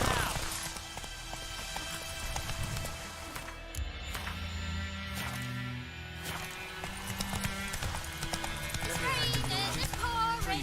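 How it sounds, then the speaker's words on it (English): A horse gallops in The Witcher 3 as rapid rhythmic hoofbeats, close and steady throughout under game music, with a voice urging the horse on. "Faster. Run, Roach."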